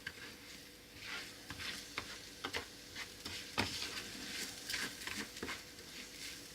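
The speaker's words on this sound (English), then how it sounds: "And now you can hear it sizzling." Rice frying in olive oil for a chicken and mushroom risotto, a quiet steady sizzle broken by soft ticking pops and occasional stirring scrapes, heard close up with no talk.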